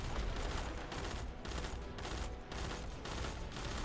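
A turret in the video game Destiny fires during a Grandmaster Nightfall strike, producing a steady, loud stream of rapid gunfire with slight pulsing in intensity and no voices.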